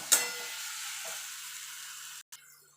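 Fried eggplant being stirred and mixed in a pan for baigan bharta, a soft, steady sizzle running throughout, with a sharp clank of the utensil at the start and a brief scrape near the end.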